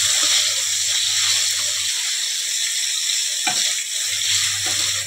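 Cauliflower florets fry lightly in a pan with a loud, steady sizzle, broken by a couple of scraping stirs and a low hum from the stove in the background.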